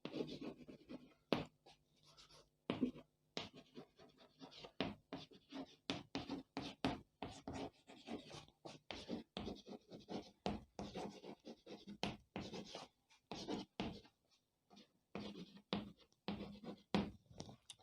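Chalk or marker strokes writing on a board during a Class 10 trigonometry maths lesson, a long run of quick scratchy taps and scrapes in uneven bursts, close and fairly quiet with brief pauses between words.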